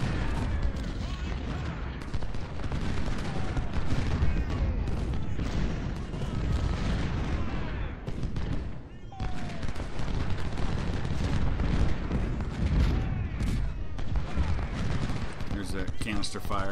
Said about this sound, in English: Canister fire.